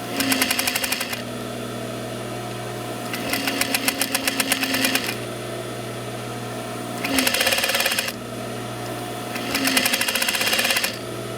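Sewing machine pre-stitching crushed corduroy, running in four short bursts of rapid needle clatter with a steady motor hum underneath and quieter pauses in between.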